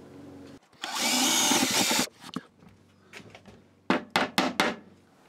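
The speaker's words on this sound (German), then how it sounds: "Und das kann ich jetzt tatsächlich da reinbohren." A power drill bores a hole into a wall while mounting a small corner cabinet: one sustained loud whirring burst of about a second, then quieter handling knocks and several short sharp drill spurts near the end.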